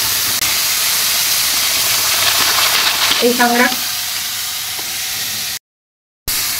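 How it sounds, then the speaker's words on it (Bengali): Live crabs frying in a hot wok, a loud continuous hiss and sizzle with a brief spoken word partway through, then a short cut to silence near the end. "দেখুন আমি এইভাবে কাঁকড়াগুলো ভেজে নেব।"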